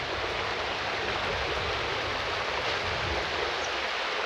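Steady broadband rush of falling water, a small waterfall beside a lake in Canada splashing continuously with no other sounds.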